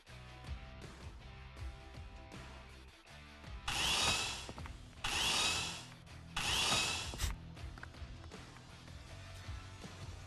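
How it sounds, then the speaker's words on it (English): Three loud, separate bursts of harsh grinding roar, like a chainsaw mixed with crumbling rock, rise over a quieter rumbling, clattering background during a cliff-face effect in the Arknights story event Ideal City - Endless Carnival. "Is that a mixture of a chainsaw's roar and a collapsing rock?"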